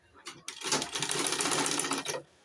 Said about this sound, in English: Then I start sewing round, just like this.